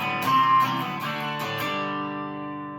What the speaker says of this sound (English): That's the one that you want to use if you want to truly rock out.